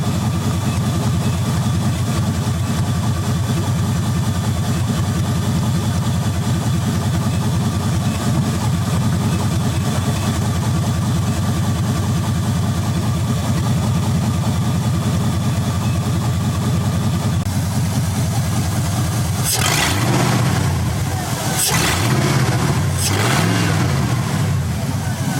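A Firebird with a swapped 5.3 LS V8 idles with a loud, steady rumble, then the engine is revved in several sharp bursts near the end.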